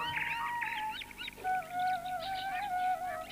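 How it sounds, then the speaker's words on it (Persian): Several birds chirp and trill in quick overlapping phrases over a steady low hum, faint and somewhat distant, with no voices. "آواز پرنده ها"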